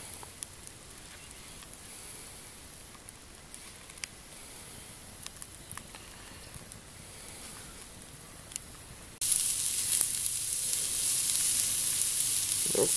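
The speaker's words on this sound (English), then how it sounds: "I got my little pan on the embers, and it's making the right noises without giving off that burned up smell" Bologna frying in a small pan set on wood fire embers outdoors, a steady close sizzle with faint crackles and pops that grows noticeably louder and hissier near the end.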